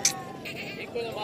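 A goat bleats briefly and nasally at a livestock sale, close by, over background talk.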